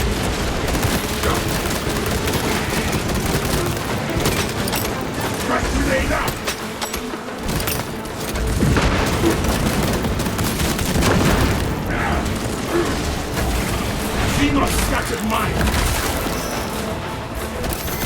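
Grenade blasts and gunfire in the Warhammer 40k Space Marine 2 video game, a dense, continuous barrage of shots and booms throughout, with a voice talking over the combat.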